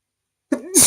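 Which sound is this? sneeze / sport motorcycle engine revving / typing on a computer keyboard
sneeze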